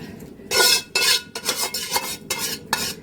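A spoon scrapes and clatters against a metal uruli as a roasted mixture is scooped out into another vessel, several distinct metallic scraping strokes in irregular rhythm, close and clear with no talking.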